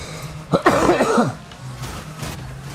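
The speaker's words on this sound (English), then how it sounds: "sorry about coughing in the mic there" A person coughs right into a microphone in a short, harsh burst of two or three hacks, loud and close, followed by a quieter stretch of low background hum.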